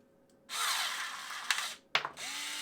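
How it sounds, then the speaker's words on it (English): Parkside PAAS 4 A1 4V battery pruning shears closing on a 17mm branch, a close whirring motor and gear drone that strains with sharp crackling snaps, pauses, then whines again. "It is clear that the electric shears produce a much cleaner cut."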